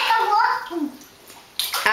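Tap water runs and splashes in a bathroom sink, spilling over onto the counter and floor, with a voice over it before the flow briefly quiets and a splashy burst returns near the end.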